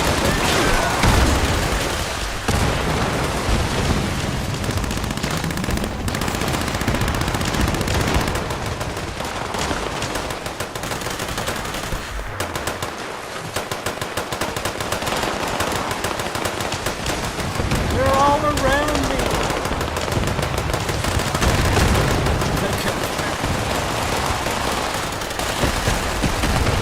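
Gunfire in the video game Fallout 76, dense rapid automatic bursts and heavy booms rattling almost without pause, loud and close, with a voice talking underneath at times.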